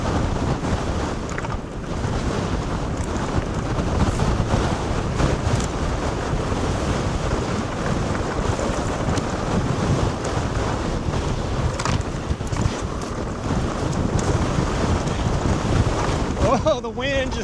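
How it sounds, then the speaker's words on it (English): Heavy wind roars steadily against an e-bike and rider outdoors, loud and continuous with a rumbling buffeting across the whole stretch. "the wind just pushed that bike so much"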